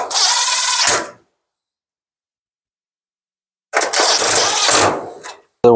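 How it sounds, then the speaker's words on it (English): A cordless power driver runs a screw back into the panel of a Samsung clothes dryer in two whirring bursts separated by silence, close and loud, with a brief third start at the end. "And then we'll put this screw back in."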